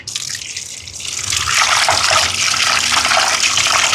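Fish being rinsed and turned in salted water, a steady loud splashing and gushing that swells after the first second and continues without pause, no voices.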